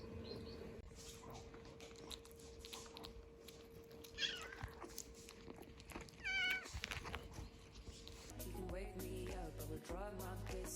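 Small kittens mew in a few short, high calls, one rising cluster standing out near the middle, over steady background hum and faint rustling in a home animal enclosure.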